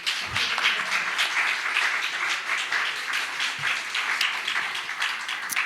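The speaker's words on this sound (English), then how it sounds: "You can clap now." An audience applauds after a talk at the Liberty Speaks 2021 event. The clapping is sustained and evenly dense, with a few sharper individual claps standing out near the microphone, and no one speaks.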